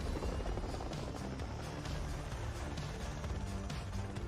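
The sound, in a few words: helicopter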